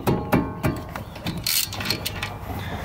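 Ratchet wrench loosening a car brake caliper bolt, a quick series of close clicking ratchet strokes with metallic rattles, loud and rhythmic at first, then faster and lighter.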